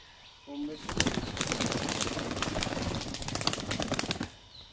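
Laldum pigeons burst into flight inside a loft, a loud flurry of wingbeats that rises sharply and clatters steadily for a few seconds before stopping, with a brief coo just before.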